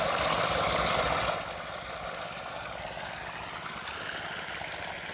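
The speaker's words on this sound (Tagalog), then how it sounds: "kalakas ng tubig mga kap" Strong water rushes through a chili farm field, a dense, steady hiss that is loudest at first, then drops to a softer continuous flowing roar with no talking.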